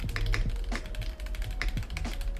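Typing on a Maxfree K3 mechanical keyboard with an attached touchscreen: quick irregular clacking keystrokes, close and crisp, with no voices.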